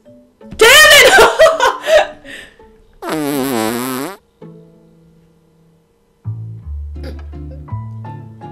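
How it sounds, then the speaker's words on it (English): Cartoonish fart sound effect from the video game Kitty Power's Matchmaker, a loud wet sputtering burst followed by a long buzzing blat, with game music and effects after it. "You ever farted so good that you go cross-eyed?"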